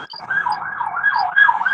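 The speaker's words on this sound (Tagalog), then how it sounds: "may ambulansya niyan, may ambulansya ka na dyan, bro" An ambulance siren wailing in a continuous rising and falling sweep, loud and fairly close, with no other sound over it.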